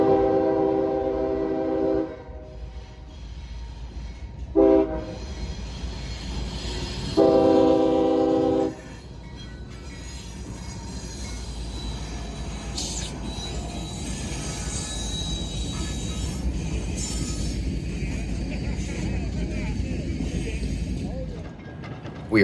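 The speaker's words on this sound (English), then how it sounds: "These locomotives are coming off the main line" CSX freight locomotives leave the main line and roll into a yard, with rumbling engine and rail noise throughout and two loud horn blasts early on.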